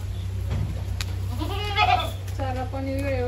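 Goats kept in an enclosed goat farm shed bleat twice, nearby and clearly, over a steady low mechanical hum.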